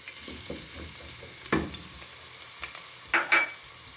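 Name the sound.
ginger garlic paste frying in ghee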